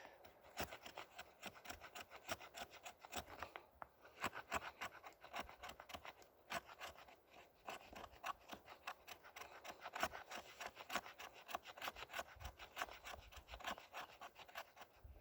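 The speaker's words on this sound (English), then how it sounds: "So you can see all the little shavings coming off there." A blade scrapes wood shavings for fire starting outdoors in snow, a continuous quiet rasping of rapid, rhythmic strokes close by, with no talking.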